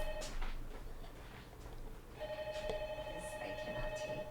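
An office telephone rings faintly at a distance, its repeating electronic trill sitting low beneath clatters and background room noise.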